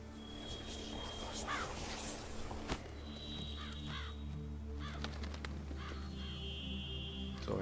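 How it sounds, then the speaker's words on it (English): A raven calls repeatedly in The Witcher 3: Wild Hunt, Blood and Wine, giving several harsh, rasping caws spread across the clip over a steady game ambience with faint background tones, moderately near and clear. "What was that? A raven?"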